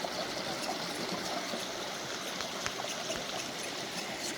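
A small stream runs among pine cones on an off-trail mountain route, giving a steady, soft trickle and rush of water with no pauses.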